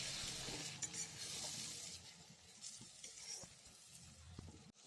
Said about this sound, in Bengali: গেঁড়িটা অ্যাড করে আমরা 5 to 7 মিনিটস খুব ভালোভাবে কষে নেব।